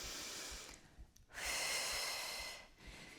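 Slow, audible breathing during a beginner ballet barre exercise: a long drawn inhale, a brief pause, then a longer airy exhale, close to the microphone with no talking.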